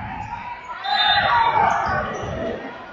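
Basketball game crowd in an arena rising into applause and cheering for a player, swelling midway and then easing back, with a commentator talking over it.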